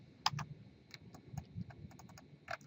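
Faint, irregular clicks of fingers typing on a computer keyboard, a few quick keystrokes scattered across a quiet room.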